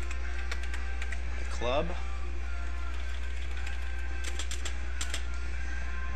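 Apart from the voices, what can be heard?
typing on a computer keyboard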